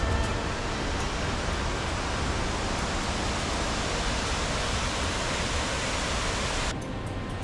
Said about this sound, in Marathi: पावसाळ्यात हा धबधबा आपले संपूर्ण सौंदर्य प्रकट करतो.